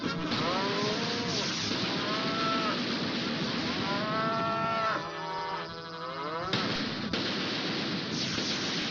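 Cattle mooing loudly and repeatedly, several long drawn-out lowing calls overlapping over a noisy outdoor background.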